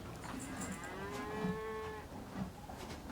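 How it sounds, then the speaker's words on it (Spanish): A cow named as a beautiful farm animal gives a single long, drawn-out moo close by, rising and falling over quiet barn ambience, with no one speaking. "Es una vaca hermosa."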